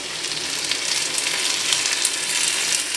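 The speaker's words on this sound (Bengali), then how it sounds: "পোস্ত বাটাটাও দিয়ে ভালো করে একটু নেড়ে নেড়ে নিচ্ছি, নাড়াচাড়া করে দিচ্ছি যাতে পোস্তর একটু ভাজা ভাজা হয়ে যায়" Potatoes with poppy seed paste, Medinipur-style aloo posto, fry in a pan with a constant bright, close sizzle and faint scraping from stirring, steady throughout with no talk.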